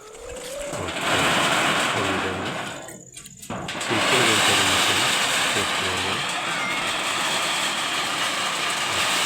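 A turmeric grinding machine runs loudly up close with a droning mechanical roar, briefly dipping near the start before resuming at full, steady volume.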